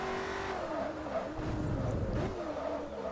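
A Koenigsegg with a fully manual gearbox races in the video game Forza Motorsport 3, its engine holding a steady, loud whine and shifting pitch while tires squeal under hard cornering throughout.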